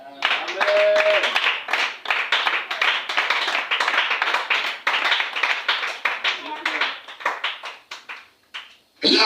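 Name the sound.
congregation applauding in church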